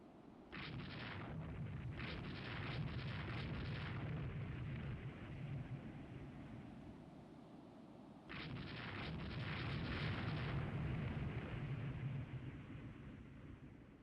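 Cruiser Furutaka firing its guns in a naval battle in Rule the Waves 3, two bursts of repeated booming gunfire over a low rumble, fairly faint and with no voices.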